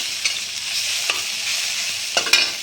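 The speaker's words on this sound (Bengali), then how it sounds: "এখন আমি পেঁয়াজটা একটু নেড়ে চেড়ে" Onions frying in a pan are stirred, giving a soft steady sizzle with a few sharp scraping clicks of the utensil against the pan, close and alone.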